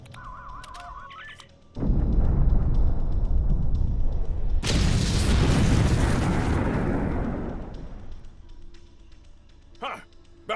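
A huge explosion in Star Trek Online: a sudden loud blast followed by a second, bigger roaring burst, rumbling for several seconds before fading out into game sounds.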